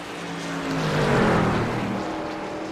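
Race trucks in iRacing at Watkins Glen roar past with a broad engine drone that swells to a peak and eases off, loud and continuous with no talk.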